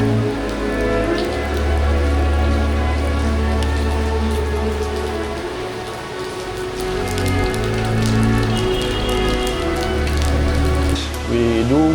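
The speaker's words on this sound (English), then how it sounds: "It's rained the whole day, man." Steady rain falling at night in a small outdoor training area, a dense continuous patter of drops on surfaces with a low hum underneath, lasting throughout without talking.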